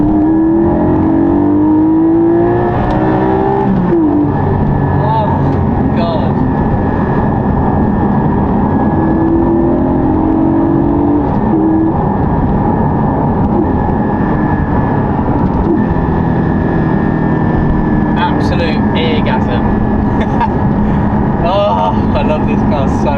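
Porsche engine pulled hard in second gear up to 8,000 RPM, loud and close with a rising, climbing engine note that sweeps up repeatedly through the clip, sustained and dominant throughout.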